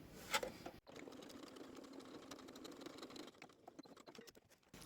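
A domestic sewing machine runs steadily, stitching back over the first seam of a small double coin purse, a close, continuous rapid mechanical whirr that slows and stops near the end.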